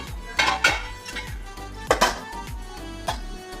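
Garlic being coarsely crushed in a pot or mortar for garlic chutney, with a series of sharp metallic knocks and scrapes in an uneven rhythm, close and fairly loud.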